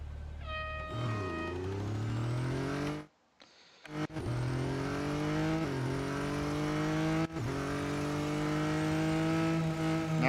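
Altera race car from Real Racing 3 revving hard, its engine pitch climbing in repeated sweeping rises between gear changes, loud and close, with a brief cut near the start.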